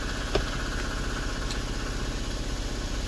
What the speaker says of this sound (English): That is my 80 gallon snap-on compressor turning on.